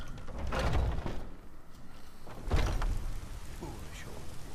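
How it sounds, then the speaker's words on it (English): Rain falls in the video game Skyrim Special Edition, a soft steady patter broken by two heavy, rumbling bursts, while voices are faintly heard underneath. "Alright, it's still raining out here."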